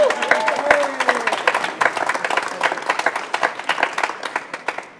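A studio audience bursts into applause during a quiz show about German state election results, with many hands clapping briskly and loudly up close, building into uneven bursts of claps as it goes on.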